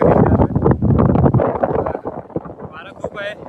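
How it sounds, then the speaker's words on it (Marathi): Strong wind buffets the microphone atop a huge boulder in the Konkan hills, a rough, gusting rumble that stays loud throughout while a person talks over it. "वारा खूप आहे"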